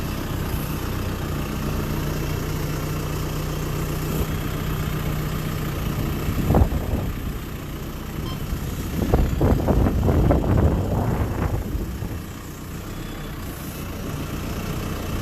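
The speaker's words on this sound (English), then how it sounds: "It's a nice bucket load of dirt right there as he continues to excavate" An excavator engine drones steadily while digging dirt, with a few louder clanks and scraping bursts from the bucket partway through before the engine settles back to an even idle.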